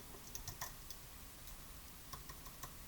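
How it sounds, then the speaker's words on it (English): Quiet clicking of computer keyboard keys as a name is typed, a few short bursts of keystrokes with pauses between them, faint and close. "You're going to hit Rename, and you can simply type it in."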